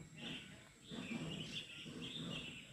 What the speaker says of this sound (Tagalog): Daming ibon, guys.